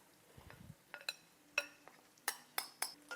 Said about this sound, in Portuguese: Vou fechar aqui a cuscuzeira.